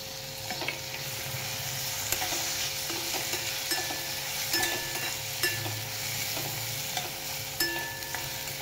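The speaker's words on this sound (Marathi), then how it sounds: "आपण आता ह्याच्यात टोमॅटो टाकून घेऊया।" Onion and tomato sautéing in a pan for a green moong bean curry, a steady sizzle and frying crackle broken by stirring scrapes that recur every second or so, close and moderately loud, with no voices.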